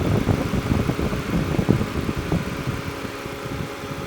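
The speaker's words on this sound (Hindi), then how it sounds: "अगर मैं आपको इसका इंजन साउंड सुना देता हूँ" Used car engine idling with the hood open, a steady low hum and soft mechanical whir, quiet and even throughout with no voices.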